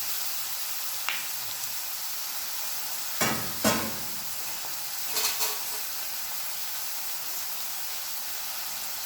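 Chicken for a pepper chicken dish sizzles in a hot pan with a constant bright hiss, interrupted by a few brief stirring scrapes and bumps.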